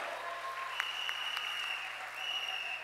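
Rally crowd applauding in steady, fairly faint broadband clapping that holds evenly throughout, heard from a distance with a few sharper claps standing out and a faint voice over it.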